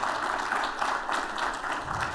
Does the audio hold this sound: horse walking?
no